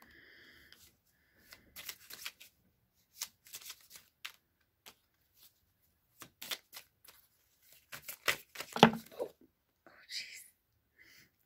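A tarot card deck shuffled by hand in a quiet room, soft papery riffles and taps in scattered bursts with a whispering voice in between.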